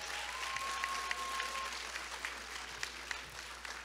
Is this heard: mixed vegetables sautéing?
no